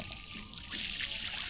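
Water is poured onto stones set by a backhoe for a land boundary, a soft continuous splashing trickle that grows slightly louder partway through, close and quiet, with no talk.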